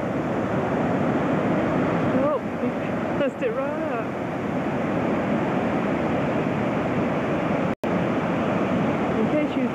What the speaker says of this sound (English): Those are like big waves,